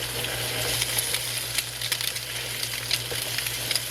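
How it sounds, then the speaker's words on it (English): Eggs frying in a pan beside steak, giving a steady close sizzle with scattered faint crackles and pops over a low hum. "now our eggs are down here. They're letting those fry."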